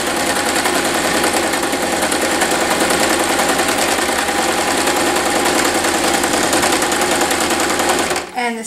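A sewing machine double stitching a fabric bag runs steadily in a fast, even mechanical chatter, close and loud, stopping abruptly near the end.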